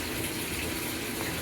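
A washing machine with a plexiglass lid filling with hot water: a steady, loud rush of pouring water, continuous and even throughout with no voices.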